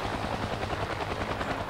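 Helicopter in a mobile combat flight game, a steady close rotor thump and engine whine running continuously without a break.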